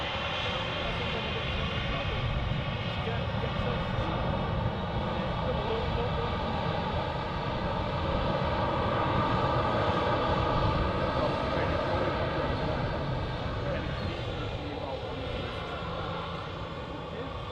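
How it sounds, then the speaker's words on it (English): A Ryanair jet passes at Manchester Airport, a loud, sustained broadband engine roar swelling slightly mid-clip and staying strong throughout. "Wait for the Ryanair to go past."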